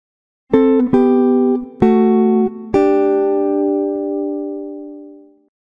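Jazz guitar chord melody on a clean electric guitar: four plucked chords struck in turn, each ringing clearly, the last left to sustain and fade out slowly, with no voice.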